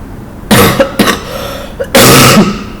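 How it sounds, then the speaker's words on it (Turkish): Three harsh coughs close to the listener, two short ones followed by a longer, heavier cough. "Bu öksürüğe katlanıyorum ben."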